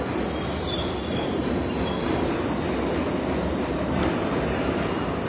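A passenger train runs on rails for several seconds, with a continuous loud rumble and high wheel squeal. One sharp click sounds near the end, and no one speaks.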